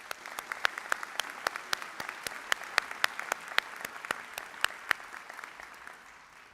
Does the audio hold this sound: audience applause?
yes